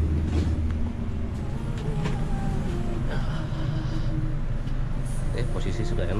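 A Pahala Kencana coach bus sets off from the agent's stop in Jatinangor, its low engine drone and cabin hum steady throughout, with faint background voices.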